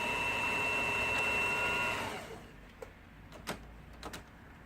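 An Elna 3210 household sewing machine, tested after repair, hums and stitches steadily for about two seconds, then stops, followed by a few light mechanical clicks.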